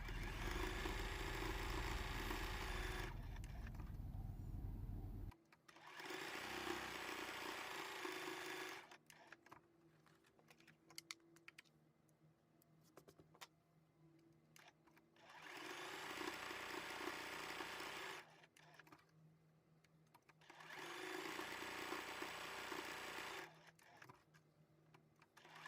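A sewing machine stitches straight quilting lines across a scrappy selvage-edge fabric pin cushion, its motor whirring in three sustained bursts separated by quieter pauses filled with light handling clicks.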